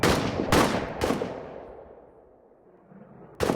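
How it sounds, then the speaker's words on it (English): Gunfire in a WWI trench warfare video game: three sharp close shots in quick succession, a pause as the echo fades, then a fourth loud shot. "You keep shooting those guys."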